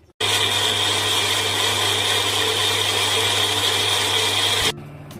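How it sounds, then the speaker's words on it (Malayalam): A mixer grinder whirs loudly and steadily as it blends onions into a paste for a spicy pork curry, running continuously for several seconds before cutting off abruptly and winding down. "ഇതൊന്ന് നമുക്ക് പേസ്റ്റ് ചെയ്തെടുക്കാം."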